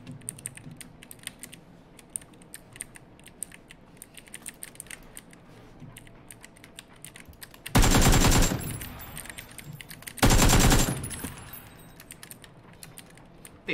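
AK rifle fire in the shooter game PUBG comes in two loud, sustained automatic bursts, each lasting about a second, over a steady patter of keyboard and mouse clicking.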